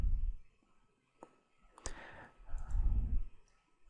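Keyboard keys and a computer mouse click while code is cut and pasted in a Java editor. A few scattered, soft, close clicks sit among low rumbling handling noise, and no one speaks.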